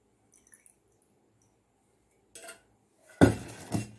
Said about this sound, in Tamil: இப்போ ஒரு பாட்டில் இதை நல்லா வடிகட்டிக்கலாம்